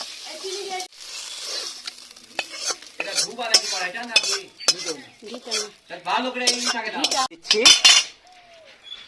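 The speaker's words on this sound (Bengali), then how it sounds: "এবার ফোড়নটা খিচুড়িতে দিয়ে দিচ্ছি" A spice tempering of ginger, cumin, chilli and bay leaf is poured into a pot of moong dal khichuri, with metal spoon clatter, stirring and a brief sizzle mixed under close, frequent talking.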